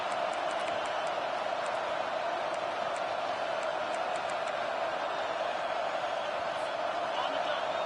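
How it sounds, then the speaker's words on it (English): A packed indoor football arena crowd roars steadily during a tense late-game defensive stand, a dense, constant wash of cheering that stays loud and unbroken throughout, with faint sharp whistles or shouts flickering above it. "The roar of the crowd trying to fuel this defense to keep them pinned in their own end."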